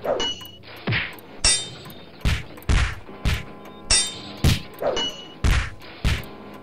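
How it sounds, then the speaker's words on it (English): A chiming clock rings out in a steady series of bright, metallic strikes, about a dozen evenly spaced tones with lingering resonance. "the cosmic clock began to chime"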